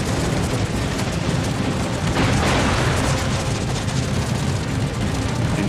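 Gunfire and explosions in the combat game Indomitable make a continuous, loud, dense rumble of booms and shots, with a slightly heavier swell near the middle.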